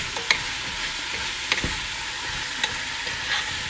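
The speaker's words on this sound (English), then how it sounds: "And just kind of give it a stir." Chopped rhubarb sizzles in a hot pan with a bright, constant hiss while a utensil scrapes and stirs it in a few distinct strokes, close up and without talk.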